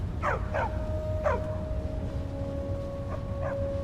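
Dogs in Skyrim Special Edition give short yelping barks in a few quick bursts, a pair early and another pair near the end, over a steady low ambient hum with a faint sustained tone.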